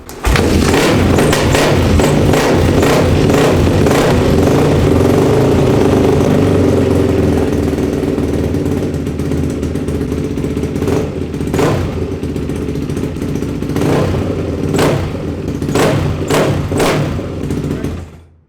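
A Yamaha YZ450F supermoto's single-cylinder engine runs loud and close, with a steady rumbling idle broken by sharp throttle blips and thuds that come in bursts through the second half.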